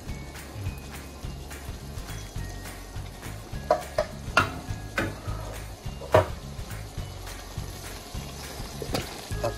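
Canned coconut milk poured into a pot and stirred for Filipino ginataan, with soft repeated scraping and liquid sloshing plus a few louder clinks of the spoon against the pan.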